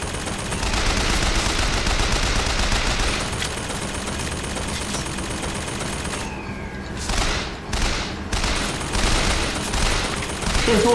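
Dense, sustained gunfire in the first-person shooter Bioshock Infinite, a continuous loud barrage of shots and blasts that briefly thins, then resumes with heavy booming bursts near the end.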